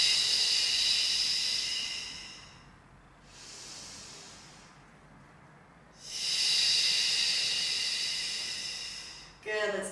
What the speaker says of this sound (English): So I'm doing my Pilates breath.